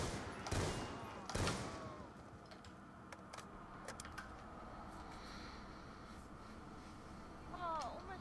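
Gunfire in a zombie-mode shooter game: a few sharp, loud shots ring out early, followed by quieter scattered pops over background game noise, with a brief voice near the end.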